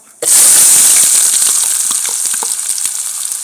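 Chopped onion dropped into a hot pan with cumin for vegetable noodles, a sudden loud sizzle that bursts in and holds as a steady close hiss with small pops.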